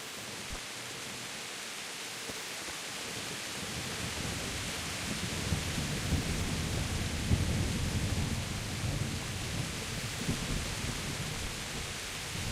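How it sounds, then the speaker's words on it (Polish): Video game thunderstorm with heavy, steady rain hiss and deep rolling thunder swelling in the low range midway, continuous and enveloping with no talk. "Burza."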